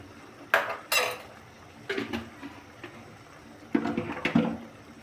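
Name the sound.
chicken curry spices being stirred and sautéed in a pan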